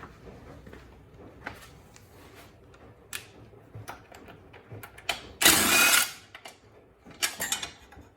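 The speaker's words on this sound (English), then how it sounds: "So using a 1/2 inch size ratchet." A 1/2 inch ratchet loosens the belt guard on a Toro self-propelled lawn mower. Scattered quiet clicks and clacks of the ratchet and metal parts are punctuated by one loud, rushing burst midway, with no speech.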